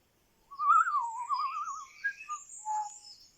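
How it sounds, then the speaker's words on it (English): Birds singing a dawn chorus drift in through an open window: a clear warbling whistle followed by a scatter of higher chirps and tweets, fairly close and with no voices over them. "the chirping of the dawn chorus floated in through his open window"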